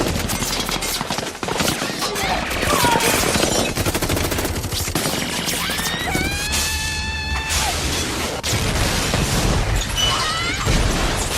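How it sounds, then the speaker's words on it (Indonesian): Action-film attack on a house, with a missile strike followed by dense automatic gunfire: continuous loud rattling bursts, crashes and whooshing debris, with a brief pitched whine partway through, all heavy and unbroken. "rumah mereka tiba-tiba diserang oleh rudal yang disusul tembakan senjata otomatis"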